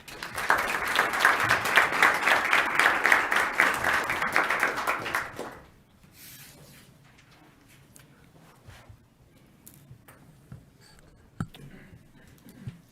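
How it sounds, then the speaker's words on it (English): Applause from the audience at a city commission meeting in Marquette, dense and steady for about five seconds before breaking off abruptly, followed by quiet room noise with faint scattered clicks. "Well, they clap."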